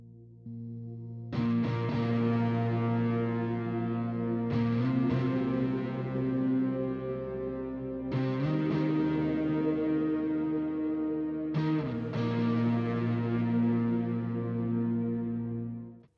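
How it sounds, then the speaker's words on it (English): Heavily distorted electric guitar chords from a Boss GX-100 effects processor ring out one after another, four long, droning strums held loud and sustained. "if we bring in the distortion as well"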